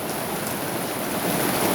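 Heavy rain pours steadily in a dense, even hiss that stays loud and unbroken throughout, with no voices.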